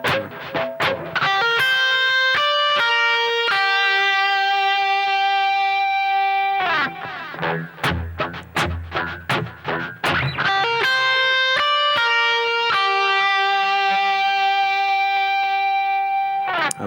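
Guitar lick in a diatonic minor scale: clean, close single notes picked in quick runs and slides, with a short burst of brighter strummed attacks in the middle, played alone without talk.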